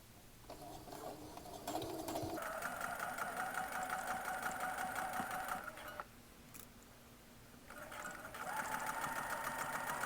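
A sewing machine stitches a sweater top in steady bursts, whirring loudly for several seconds, pausing briefly, then running again, close by with no talk.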